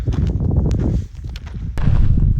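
A donkey walks along a rocky mountain trail on the GR20 route in Corsica, its hooves giving a close, uneven series of knocks and scuffs, with a brief lull midway.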